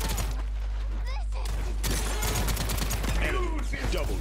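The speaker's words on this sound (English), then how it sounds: "Enemies are firing on you." Gunfire in the Paladins video game: rapid bursts of shots and mechanical clatter under a constant low hum, mixed with chirping effects and a voice talking over the action.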